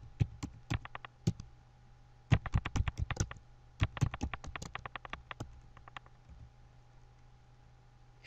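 Computer keyboard keys are tapped in quick clustered bursts while values go into an Excel spreadsheet, crisp close clicks separated by brief pauses.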